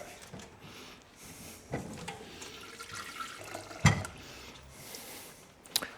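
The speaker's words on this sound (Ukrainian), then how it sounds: "набрав десь близько до 1 літра води" Water runs from a tap into a pot, about a litre, a steady splashing stream with a few clunks and knocks of handling along the way.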